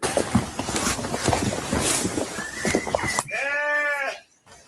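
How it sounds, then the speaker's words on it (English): After a stretch of noisy rustling, a single sheep bleats clearly near the end, a wavering nasal call that stops abruptly. "Wait, that was a sheep making that sound?"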